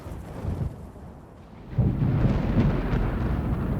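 Thunder from an approaching storm over a hiking area, a low rumble that swells and then breaks into a louder, sustained roll partway through, with no voices.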